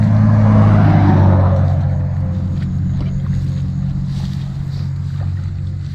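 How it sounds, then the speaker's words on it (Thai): A car passes on an asphalt road beside a roadside trapping route, its low engine rumble loud and close at first, then easing to a steadier hum as it moves on, with no speech. "เอ้ยเสียงรถ"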